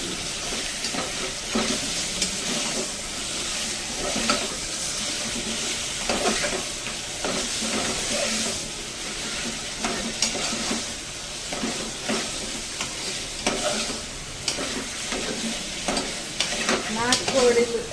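Native country chicken being stirred and mashed in a hot frying pan, steady sizzle with repeated scraping and clanking strokes throughout, close and fairly loud.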